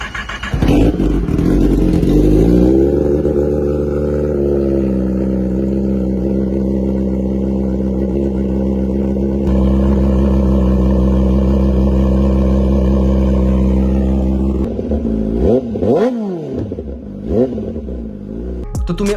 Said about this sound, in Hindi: कावासाकी ZX-10R इनलाइन 4 सिलेंडर का आज हम लोग एग्जॉस्ट नोट सुनने वाले हैं।